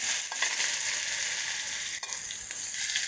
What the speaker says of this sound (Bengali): এই তেলেই একটু পেঁয়াজ দিয়ে দেবো।